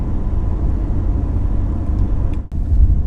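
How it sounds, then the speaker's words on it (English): A Mercedes-Benz C300 cruises along a quiet country road, heard from inside as a steady, loud low rumble of road and engine noise with a brief dip near the end, no voices. "So we're still driving the C300."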